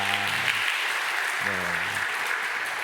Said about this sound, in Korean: 힘차게 박수하도록 하겠습니다.